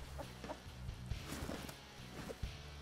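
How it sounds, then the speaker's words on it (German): A few soft, quiet chicken clucks in the video game Rust come in short bursts over a faint background, with light tapping steps mixed in. "Ein Huhn!"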